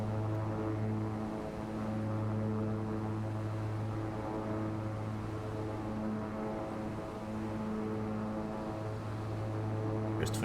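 Propeller aircraft engine in X-Plane 11, a steady droning hum with a throbbing propeller beat, held at reduced RPM at a constant level throughout.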